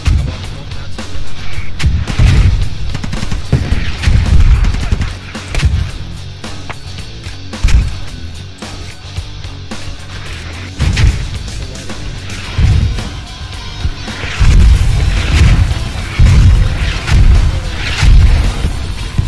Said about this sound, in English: we got APC throwing burst rounds in here